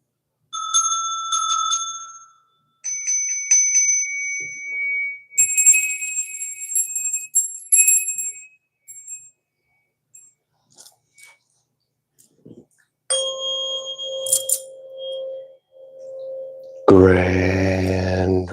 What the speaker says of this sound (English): I guess we'll do our little bell chime thing real quick.